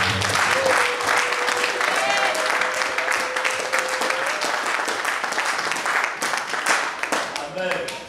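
A church congregation applauds and cheers for about eight seconds in a large hall. The clapping is dense and sustained, and a voice speaks or calls out over it.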